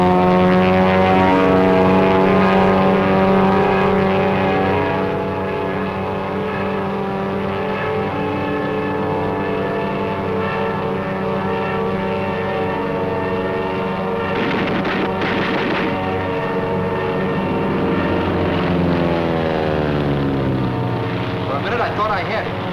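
A Japanese Zero fighter with a radial engine drones loudly and steadily throughout, its strong harmonic engine tone shifting in pitch near the end as it passes.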